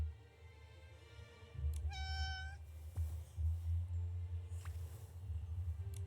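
A cat meows in the video game Infinity Nikki: one clear, drawn-out meow in the middle, with a short chirp near the end, over a low game music bed.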